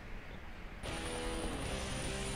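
A helicopter in the video game Duke Nukem: Manhattan Project starts abruptly after a moment of quiet, giving a steady whirring rotor-and-engine drone that carries on at an even level.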